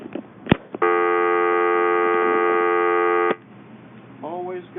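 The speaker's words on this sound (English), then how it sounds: "Let's make sure that we have dial tone." Steady telephone dial tone from a landline phone, holding continuously for about two and a half seconds between brief clicks of the handset, followed by a short stretch of quiet room noise.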